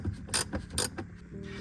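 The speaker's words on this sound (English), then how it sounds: "you're gonna use a 10mm socket to disconnect the battery" A 10mm socket wrench working a car battery terminal nut, a few sharp metallic ratcheting bursts and clicks in quick succession, close and fairly loud, no talking.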